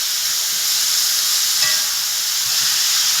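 Cabbage with green chillies and turmeric sizzles in a hot pan, a steady close hiss of frying with a brief scrape of stirring midway and no voices.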